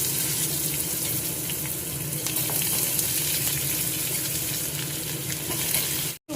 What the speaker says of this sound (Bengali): এবার এই সবজিগুলো একটু ভেজে নেব